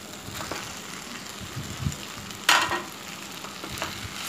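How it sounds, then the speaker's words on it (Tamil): Ground parotta pieces go into a hot pan for kothu parotta, bringing a soft steady sizzle with scraping stirs and one louder clatter partway through, all close and fairly quiet. "கிரைண்ட் பண்ண பரோட்டாவை ஆட் பண்ணுறேன்."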